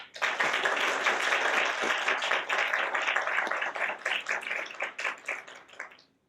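An audience at a college student government awards event applauds its collaborators, dense steady clapping that holds for several seconds, thins into scattered claps and then dies away.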